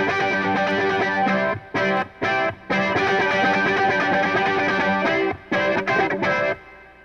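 Dirty, heavily distorted electric guitar riff layered as an overdub onto a fairly clean, harsh guitar part, played loud and alone with short choppy breaks between phrases.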